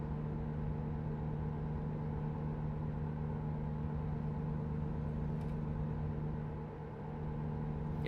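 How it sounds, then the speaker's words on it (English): A truck engine in American Truck Simulator, a damaged rig that has been crashed a few times, drones with a low, constant, heavy rumble and a steady humming tone, running continuously at moderate volume. "Yeah, this engine doesn't sound healthy."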